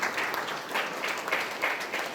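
Audience applause at a yajna gathering of an Arya Samaj in Forest Side, Mauritius: steady, moderately loud crowd clapping that swells in waves over a couple of seconds, with no voices.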